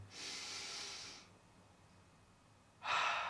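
Two deep breaths drawn in from the stomach, close and soft: a long airy inhale of about a second, a pause, then another breath starting.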